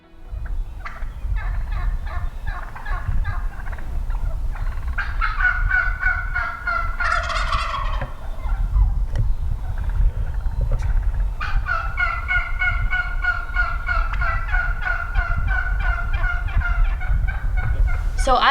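Wild turkeys gobble repeatedly from a roost in Wyoming in rapid, rattling bursts, several birds overlapping at moderate distance against a low background rumble.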